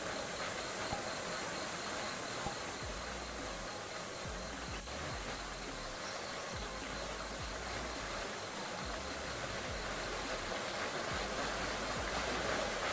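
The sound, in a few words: loud waterfall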